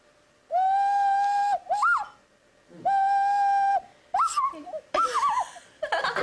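A person whistles an imitation of the Japanese bush warbler (uguisu): two long steady held notes, each followed by quick warbling flourishes, then rapid trilling chirps near the end, close and clear.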